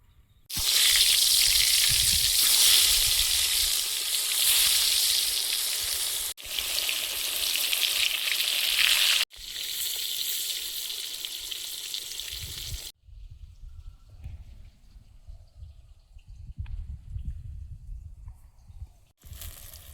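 Eggplant slices fry in oil in a wok with a loud, bright sizzle that cuts out briefly twice, then drops to a much quieter bubbling for the final stretch. No one speaks.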